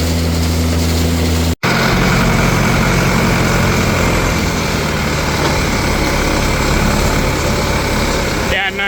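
A farm tractor running at a steady 1,000 RPM pulls a New Holland silage wagon while corn silage is being harvested, a continuous loud engine drone with rumbling low tones that holds throughout.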